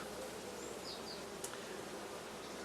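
Honeybees hum steadily in a hive on ten frames, the colony recovering from poisoning, a dense continuous buzz with no voices.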